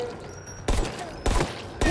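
Three loud gunshot bursts from a firearm in the video game Dying Light 2, each a sharp broadband crack with a short tail, spaced roughly half a second apart over quiet game ambience.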